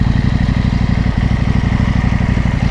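A KTM 890 SMT motorcycle being ridden, its engine a steady, loud low drone with continuous mechanical clatter running through the whole stretch, no voices over it.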